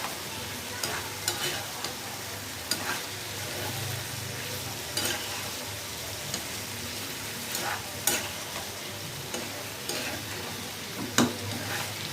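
Steady sizzling of eggplant and potatoes frying in a pan, with repeated clinks and scrapes of a spatula stirring throughout, close up.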